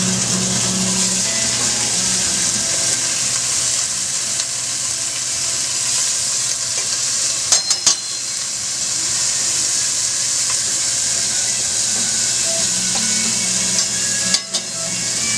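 Cube steak fries in a pot for chili con carne, giving a steady, close, loud sizzle with a constant hiss and a couple of brief stirring clatters partway through.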